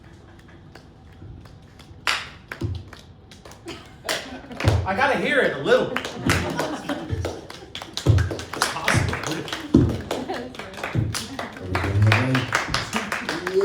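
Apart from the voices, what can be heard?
audience clapping softly and distantly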